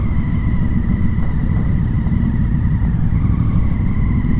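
Motorcycles idle and rumble together at a roadside meeting spot, a steady low engine drone filling the whole stretch with no voices over it.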